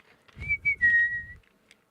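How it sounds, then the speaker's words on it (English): A short whistled phrase: a few rising and falling notes then one long held tone, clear and close, with soft low rumble beneath. "whistling, no big deal"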